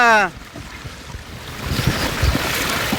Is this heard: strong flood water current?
yes